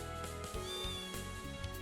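A cat's meow from The Legend of Heroes: Trails video game, short and soft, over a steady bed of game music.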